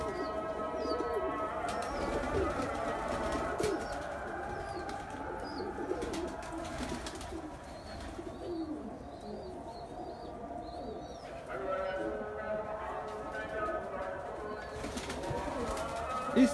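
Pigeons coo steadily in a loft, soft overlapping calls with occasional chirps and brief wing flutters against a continuous low murmur of birds close by.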